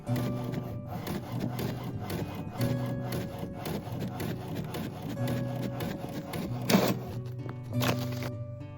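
A printer runs through a scaled paper template for a 1964 Epiphone Olympic guitar, its print head shuttling back and forth in a steady, rhythmic mechanical whir that continues throughout at moderate volume, with no one talking.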